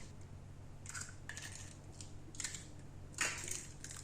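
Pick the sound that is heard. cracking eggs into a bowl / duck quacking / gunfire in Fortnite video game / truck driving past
cracking eggs into a bowl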